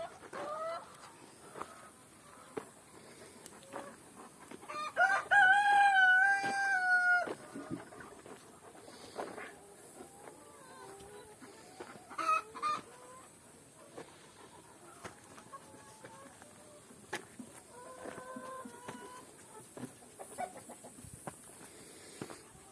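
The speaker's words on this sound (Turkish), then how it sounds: "Tavuklar da güneşleniyor orada." Chickens cluck and squawk nearby, with a loud burst of excited cackling early on, then scattered softer clucks and calls in a quiet yard.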